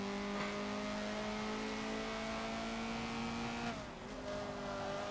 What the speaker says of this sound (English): So you heard the revs, how high the revs were.